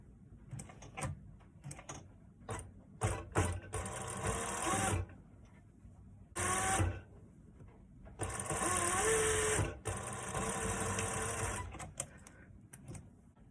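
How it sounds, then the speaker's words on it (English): A sewing machine stitching a garment's back facing for a built-up bateau neckline runs in several close, steady whirring bursts, stopping and restarting with short pauses between runs. "And then we will stitch now."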